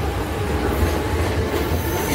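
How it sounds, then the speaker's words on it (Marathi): A Mumbai local train accelerating, heard from on board as a loud continuous rumble of wheels and rails with a dense rattling roar, no voices. "एक्सेलरेशन पकडली आहे ट्रेनची."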